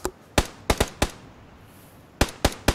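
Sharp gunshots from the video game PUBG, single cracks and quick pairs fired in two bursts separated by a short pause, loud and distinct over a quiet background.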